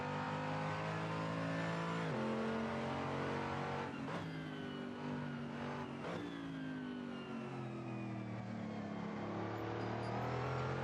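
A Mercedes AMG GT3 race car's engine at Bathurst in the Assetto Corsa racing game revs hard and loud, with pitch climbing through the gears and sharp drops at shifts around two, four and six seconds.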